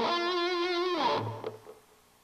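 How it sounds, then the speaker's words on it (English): Line 6 HD147 amp with a tape echo delay on a distorted electric guitar: a sustained wavering chord that bends down, then a low thud and fading repeats. "tape echo"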